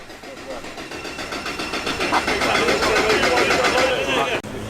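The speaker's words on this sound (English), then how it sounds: "it sounds like the Zack Speed Ford Escort is perhaps struggling a little bit to fire up" A Zack Speed Ford Escort rally car at a Bicester Heritage Sunday Scramble motoring meet, its engine cranking and struggling to fire, with a steady, fairly loud mechanical churn and background voices throughout.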